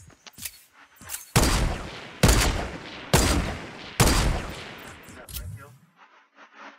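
Four loud, sharp hunting rifle shots from a green rifle in a sniping video game, evenly spaced about a second apart, each with a ringing tail, followed by quieter rustling.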